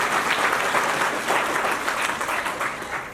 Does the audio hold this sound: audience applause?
yes